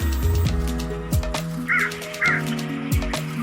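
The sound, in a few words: crow cawing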